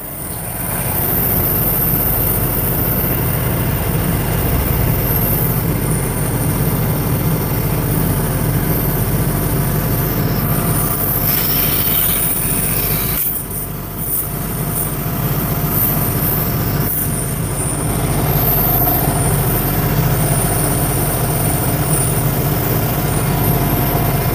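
A homemade engine-driven pump sprayer set at 1500 RPM, drawing water from a 1000-liter tank, gives a loud, steady mechanical drone with constant hiss, running unchanged for the whole stretch apart from a couple of brief dips.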